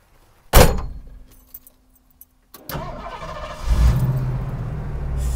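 A 1956 Ford F-100 panel truck is started up: a sharp door-like thump and a few small clicks, then a brief crank catches and the engine settles into a steady, close, rumbling idle.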